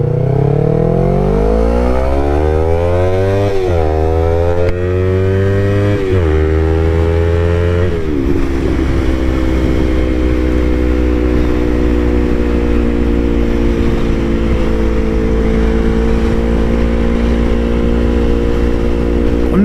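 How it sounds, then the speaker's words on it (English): A Yamaha R3 streetfighter motorcycle fitted with an M4 full exhaust revs through rising gear pulls, then settles into a steady, loud cruising drone, close and continuous throughout on a cold road. "I think this is only like my second or third ride with the M4 exhaust on here."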